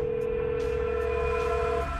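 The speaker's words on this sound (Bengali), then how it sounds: "ওই তো আমার আর্য ফোন করেছে বোধ হয় আমার আর্য ফোন করেছে" A telephone rings with an incoming call in a Bengali TV serial scene: a steady electronic ringing tone, loud and alone, cutting off near the end.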